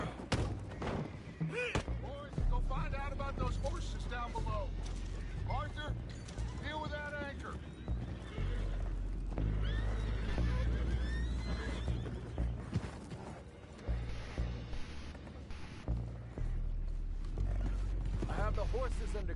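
Horses whinny and neigh amid clopping hooves and creaking in the video game Red Dead Redemption 2, with voices talking over a busy, continuous mix of game sound and music.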